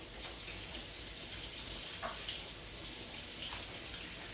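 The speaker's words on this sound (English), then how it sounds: "I'm just gonna rinse my hands here." Running tap water as hands are rinsed in a kitchen during cooking, a steady faint broadband hiss and splash that continues the whole time with a couple of small louder splashes.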